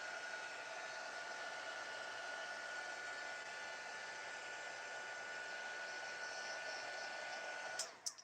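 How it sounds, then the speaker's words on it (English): A heat gun, a craft embossing tool, blows hot air over poured resin with a soft, steady hiss. A couple of clicks and knocks come just before it ends. "heat gun that I got at Michael's"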